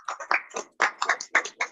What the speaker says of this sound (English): Could you please give a round of applause?